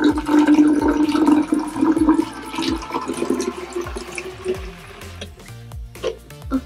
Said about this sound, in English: I'm gonna fill this up with water right now.